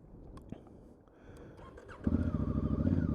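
Electric start on a 2019 Honda CRF1000L Africa Twin motorcycle: quiet clicks and a short starter whir, then the engine catches and settles into a loud, steady throbbing idle.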